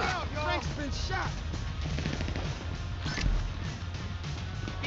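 Rapid gunfire in the video game GTA 5 during a heist shootout, dense bursts of shots mixed with shouting voices and game chaos throughout.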